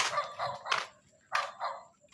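A dog barks at night in a cemetery, giving several sharp barks in two quick groups separated by a short pause, fairly close and clear against a quiet background.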